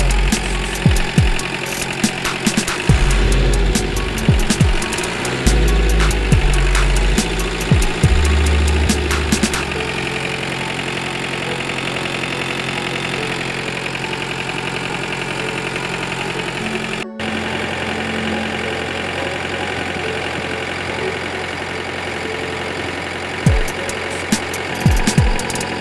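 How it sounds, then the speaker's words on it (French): A Mercedes 508D truck's diesel engine idles steadily throughout, a continuous close mechanical rumble with some knocking, plus occasional clanks and handling noises in the first ten seconds. "Ça y est, le moteur tourne"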